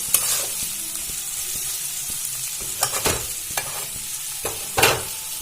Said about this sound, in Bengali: আবারও ভালো করে নাড়াচাড়া করে নেবো